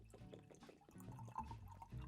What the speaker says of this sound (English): That is a rocky pour, a little shaken.